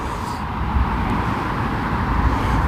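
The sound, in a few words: road traffic noise near a hedge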